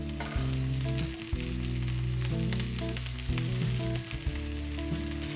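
Broccoli and carrot for kimchi fried rice frying in a pan, a loud, dense, continuous sizzle with crackles and occasional stirring scrapes, close up with no talk.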